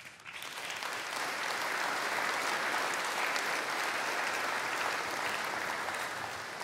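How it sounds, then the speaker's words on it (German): Sustained, dense applause fills a hall during a formal farewell ceremony for hard coal mining, a steady roar of many hands clapping at even volume from start to finish, with no speech. "Applaus"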